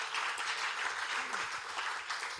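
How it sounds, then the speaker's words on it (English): Conference hall audience applauding the stage and AV crew, a steady dense wash of clapping with faint voices mixed in, moderately distant and fairly quiet throughout. "Can we get a round of applause for the stage crew, for the whole AV crew, for Xfrog,"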